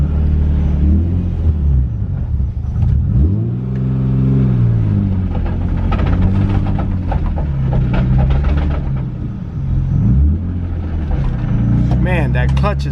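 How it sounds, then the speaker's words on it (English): A car engine fitted with a single mass flywheel revs repeatedly in cold conditions, a steady rumble rising and falling in pitch, with someone talking over it. "You can hear that single mass flywheel really aggressively."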